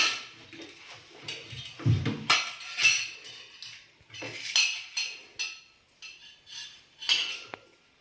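Spoons and plates clink and clatter in repeated short bursts as evening snacks are served, close and fairly loud with brief pauses between handling sounds.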